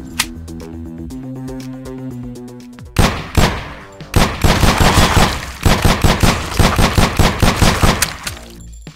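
Gunfire in a shooter video game with only one bullet loaded: after a musical stretch, loud bursts of shots come in rapid repeated volleys for several seconds, alone with no talk.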